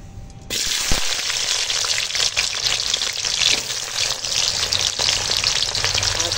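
Broad beans sizzle loudly in hot oil and ghee in a kadai for a village-style vegetable rice, the frying erupting suddenly and then holding as a steady, dense hiss close by with no voices.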